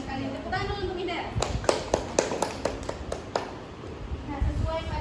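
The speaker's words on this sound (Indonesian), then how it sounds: "Tepuk tangan dulu untuk Ida." A classroom of schoolchildren gives a short burst of clapping, a few sharp spaced claps rising into a brief ragged round, fairly faint with chatter around it.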